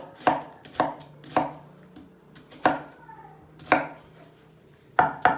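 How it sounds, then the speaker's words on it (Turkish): Knife finely chopping a large onion on a cutting board in separate sharp strokes, about eight chops spaced irregularly, close and clear with no talking. "Soğanımızı ince bir şekilde doğruyoruz."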